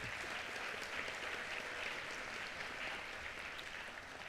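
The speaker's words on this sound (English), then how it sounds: "Please, a round of applause for everybody who's not in the room today." Audience applauding at a university doctoral hooding ceremony, steady dense clapping from many hands throughout, fairly soft and distant in a large hall.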